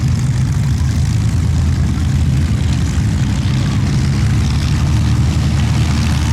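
A vintage Fokker propeller aircraft engine drones steadily and loudly at an airshow, a constant low roar with no clear breaks in the power.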